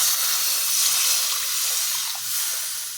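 Water is poured into hot fried spice masala with coriander powder for a vegetarian-style fish curry, raising a loud, steady hissing sizzle of steam that continues for about three seconds.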